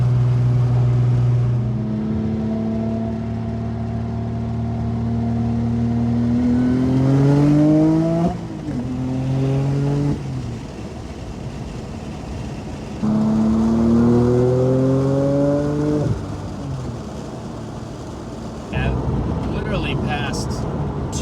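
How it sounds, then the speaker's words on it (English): A modified Porsche 996 Turbo revs loudly and climbs through its gears, the engine note rising in sweeping pulls, dropping at shifts and building again, heard from inside the car during a drive. "Just a sense of how good the car sounds"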